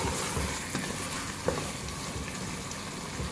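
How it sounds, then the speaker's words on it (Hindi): Mutton and bottle gourd frying over a medium flame, a steady moderate sizzle with scattered stirring scrapes and light spoon taps against the pot, close by and without voices. "मीडियम फ्लेम पे हमने कद्दू गोश्त अच्छी तरह से भून लिया है।"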